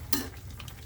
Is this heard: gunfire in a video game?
no